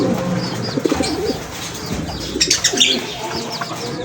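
Racing pigeons coo softly and flap their wings at a loft in Leyte, with low, burbling calls and brief wing flutters. The birds sound close, with some faint chirps and background noise, and no clear speech.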